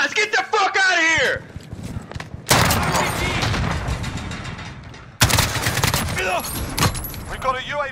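Rapid automatic gunfire in a Call of Duty match, bursts of sharp close shots separated by brief pauses, mixed with a player's excited shouting and game audio.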